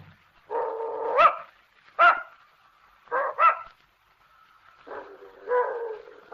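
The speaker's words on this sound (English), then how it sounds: "I don't believe your dog likes me" An aging, cranky house dog in an old radio drama gives a few short, gruff barks and growling yips in separate bursts, close by with quiet between them.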